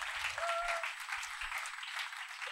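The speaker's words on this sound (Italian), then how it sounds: "Facciamo un applauso a Mauro." An audience at an Italian comedy show applauds, with a steady, even wash of many hands clapping at a moderate, somewhat distant level.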